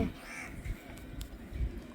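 A crow caws faintly a couple of times amid low rumbling outdoor noise, quiet and somewhat distant.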